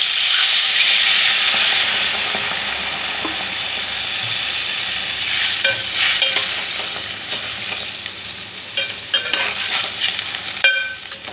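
Spiced eggplant curry cooks in a pan just after water is poured in, giving a steady close hiss of sizzling with scattered light clicks and scrapes and no talking.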